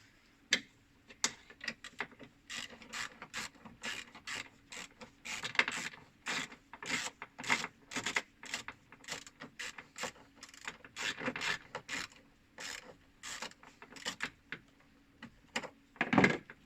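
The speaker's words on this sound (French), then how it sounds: "avec le cliquet et la douille de 10, on va aller desserrer la petite vis qui est ici" Ratchet with a 10 mm socket and small extension loosening a small screw in a tight spot on a Honda Civic EJ9, giving rapid bursts of close, sharp clicks in an uneven rhythm with short pauses, no talk.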